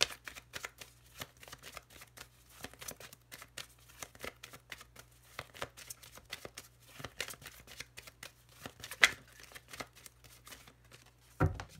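Small Lenormand fortune-telling cards being shuffled by hand, a steady run of soft, quick riffling clicks and flutters close by, fairly quiet, with no talking.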